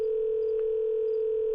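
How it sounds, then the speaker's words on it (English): A phone dialing and picking up in a video game: a loud, steady single-pitch tone held throughout, with a faint click partway in and no voices. "You heard the phone pick up."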